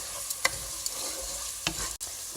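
Rice and mung beans being stirred with spices in a pot for kitchari: a few scraping spoon strokes over a low, quiet sizzle.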